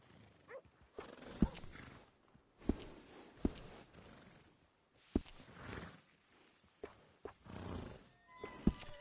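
Horse in the video game Red Dead Redemption 2 snorting, shifting and stamping quietly, with soft breaths and scattered sharp knocks of hooves or tack at irregular intervals, faint and close.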